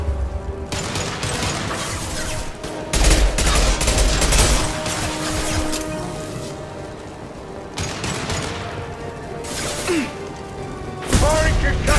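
Gunfire and concussion shots in the video game Mass Effect 2: Legendary Edition, bursts of rapid shots and heavy booms in several loud clusters, with in-game voices speaking between them.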